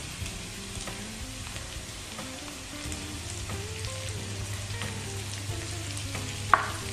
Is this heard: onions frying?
yes